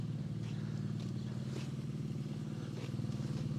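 A BMW R90 motorcycle fitted with aftermarket J-Kill exhaust pipes rumbles steadily at close range, its deep, even engine throb holding without a break and no talking over it.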